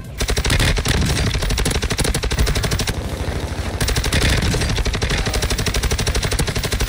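Rapid bursts of automatic gunfire from a light machine gun in the Call of Duty Warzone 2 shooter, loud and near, sustained rattling volleys with a brief lull partway through.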